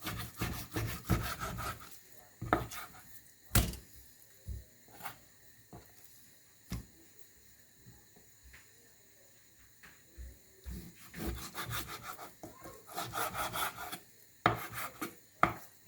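Knife cutting raw pork belly into strips on a board, a series of scraping, rasping strokes and sharp taps in irregular bursts, close and clear with pauses between cuts.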